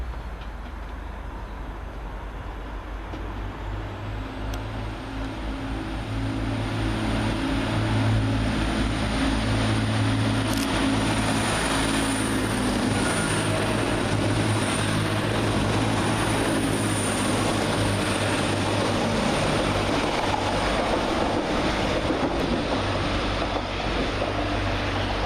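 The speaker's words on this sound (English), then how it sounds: "Next through the station for Transpennine Express is 185 103 and 185 109, working 1p70 from Darlington to Manchester Piccadilly" Transpennine Express class 185 diesel multiple units, 185 103 and 185 109 coupled, running through Guide Bridge station: a steady, loud rumble of engines and wheels that swells after a few seconds and holds for the rest of the pass.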